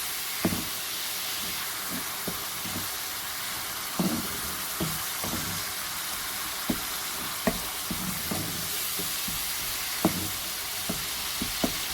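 Chicken sizzles in spices in a karahi while being sautéed, a steady soft frying hiss broken by occasional light clicks of stirring, with no talking.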